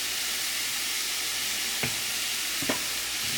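Brussels sprouts sizzle in a hot pan, giving a loud, steady frying hiss with two brief stirring scrapes partway through. No one speaks.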